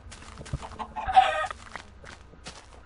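Minecraft chickens cluck in a short burst near the middle, a brief squawky call over quiet game background with no talking.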